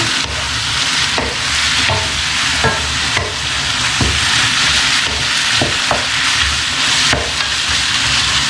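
Massaman curry paste and meat are stir-fried in a pan: loud, steady sizzling with repeated scraping stir strokes at an irregular rhythm, close up and with no talking.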